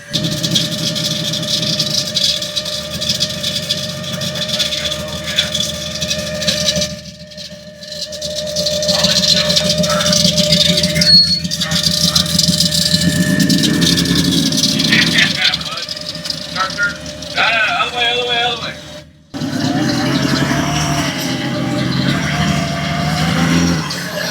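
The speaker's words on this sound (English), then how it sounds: "we're going to let her idle for a second and then try to back it out" A 1980 BMW 528i E12 engine idles nearby with a steady rattly hum, briefly dipping and surging, while people talk over it throughout.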